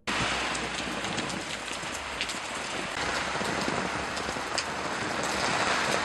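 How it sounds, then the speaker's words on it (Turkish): Heavy rain pours down steadily in Bodrum, Turkey, a dense hiss of drops hitting surfaces, loud and continuous with no voices. "Bodrum'da gece saatlerinden bu yana etkisini artırarak devam eden sağanak yağış"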